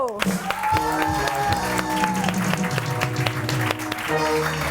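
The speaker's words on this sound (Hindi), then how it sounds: "जोरदार तालियों में वेलकम करेंगे" Studio audience applause and cheering welcoming a guest on a Women's Day morning television show, a continuous clapping wash mixed under loud background music with tonal melodic lines.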